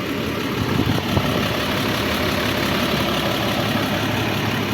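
A New Holland tractor idles steadily up close, a continuous low engine rumble with an even, unbroken drone and no talking over it.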